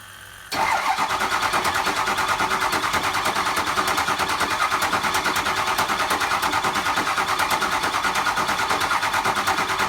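The diesel engine of a 2006 Ford F250 cranks with a rapid, loud, rhythmic starter chug that begins abruptly and keeps turning over without catching.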